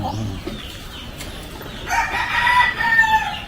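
A chicken crows and clucks in a short, strained burst toward the end, moderately close, after a quiet stretch with faint background noise.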